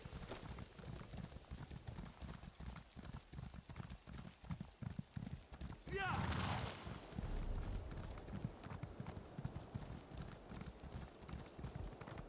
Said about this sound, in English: I got off my horse.